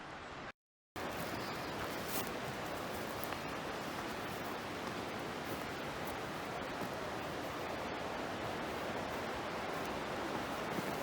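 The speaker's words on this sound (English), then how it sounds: "I believe the Dosewallips River is just through those trees, because I can hear it." A steady, broad rushing of the Dosewallips River heard from nearby through trees, constant and even with no voices, after a brief silent gap at the start.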